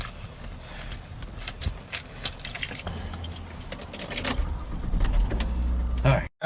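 Car keys jangling and rattling in bursts inside a vehicle, close and fairly loud, with a low engine rumble underneath and a brief moment of speech.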